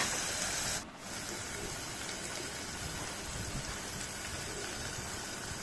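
Tomato curry sizzles steadily in a pan, a dense, even hiss that runs almost the whole time with a brief dip near the start.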